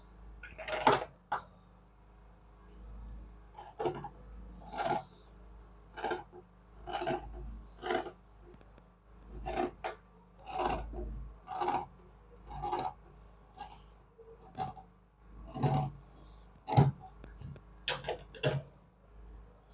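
Scissors snip through fabric for a kids' layered ruffle dress in a string of sharp, quiet cuts at an uneven rhythm, close by with no talking.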